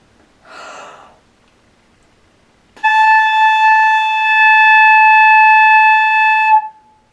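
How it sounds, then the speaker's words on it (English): A flute head joint played alone gives one steady, breathy whistle-like tone held for about four seconds. It comes in after a short audible breath and ends with a slight wobble. "And that's how to produce a sound on the flute head joint."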